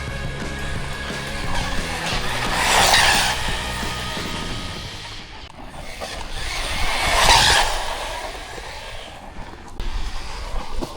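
A $50 Amazon Lynxor brushless budget RC car whining past at full throttle, the electric motor rising and falling twice as it nears and recedes, with tires scuffing and skidding on the surface.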